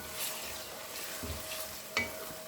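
Green chilies, tomatoes and onions frying together, heard as a faint, steady sizzle with a couple of soft stirring knocks.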